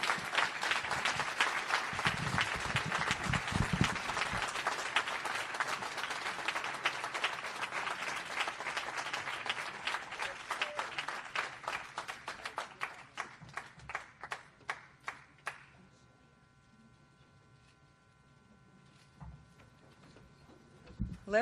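Audience applause at a Washington State Juneteenth celebration, dense clapping that thins into a few scattered claps and fades out after about fifteen seconds, followed by quiet room noise and a faint tone.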